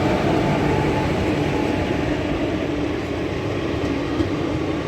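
A steady, loud rumble rolls on without a break, like the Sealdah–New Alipurduar train passing close by, with no voices over it.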